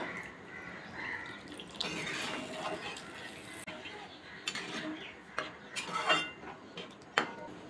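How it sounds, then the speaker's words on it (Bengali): Water poured into a pot of Bengali egg dal with moong dal, a splashing, trickling pour with clinks of utensils against the pot, fairly close and moderate in level, no talk. "আর একটু জল দিয়ে দেবো।"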